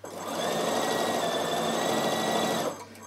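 A Bernina 7 series sewing machine with a punchwork kit needle-punches felt onto fabric, making a fast, even mechanical whir close by for nearly three seconds before stopping.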